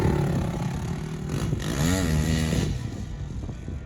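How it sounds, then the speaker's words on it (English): A dirt bike with a new tyre is ridden nearby, its engine revving up and down in a quick swell, with some clattering and scraping. "Man, that bike's fun with that new tyre on it though"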